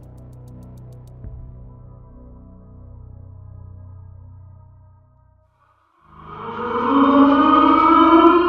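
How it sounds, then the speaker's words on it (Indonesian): A curfew-change siren sounds across the city of Yogyakarta at six in the morning, rising loudly after a low rumbling lead-in and holding as a strong wailing tone to the end. "Jam 6 pagi, sirine pergantian jam malam dibunyikan seluruh penjuru kota Yogyakarta."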